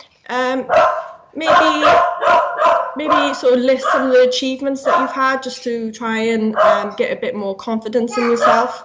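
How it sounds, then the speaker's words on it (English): A pet dog barks indoors behind a person speaking continuously on a webinar call, the yaps partly buried under the voice. "sorry, that's the dog now, it's barking."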